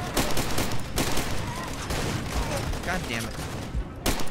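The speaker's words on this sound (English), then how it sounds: "Who's shooting at me?" Enemy gunfire in Far Cry 2 on hardcore mode, with repeated sharp shots and short bursts crackling throughout under a player's frustrated talk.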